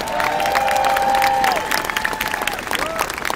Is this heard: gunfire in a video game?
no